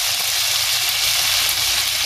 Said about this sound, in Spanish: Vas a echar tus 4 papas a guisar en este aceite para dar el sabor